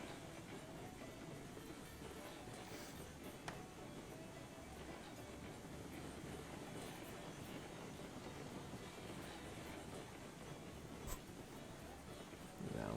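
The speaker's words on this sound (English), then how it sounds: "this is a heavy locomotive. So we're just going to apply a little bit of brakes" A heavy locomotive running downhill with its brakes applied in a railroad video game, heard as a steady low rumbling drone with a few faint clicks over the whole stretch.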